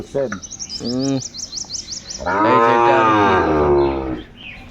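A Sahiwal bull calf on a farm gives a long, loud moo close by after a few shorter calls, while small birds chirp in the background.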